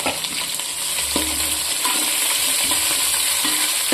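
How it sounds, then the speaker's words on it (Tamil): Sliced onions and green chillies fry in oil for mutton biryani, giving a steady close sizzle with occasional stirring scrapes and low bumps from a ladle, with no voices. "ஆனியன் இதோட 4 பச்சை மிளகாயும் சேர்த்து நல்லா கோல்டன் கலர் வர வரைக்கும் நம்ம வதக்கிக்கணும்"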